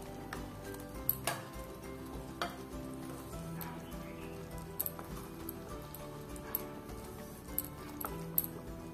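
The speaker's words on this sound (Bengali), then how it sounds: "তো গ্রেভিটা আমার সম্পূর্ণ তৈরি, এর মধ্যে আমি ভেজে রাখা ফুলকপিগুলো অ্যাড করে দেবো।" Fried cauliflower florets being stirred into a thick, gently sizzling gravy for cauliflower rezala, with soft scraping and several sharp spoon clicks against the pan over a steady low simmer.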